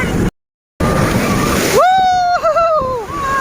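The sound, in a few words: sea waves at the Kanyakumari seashore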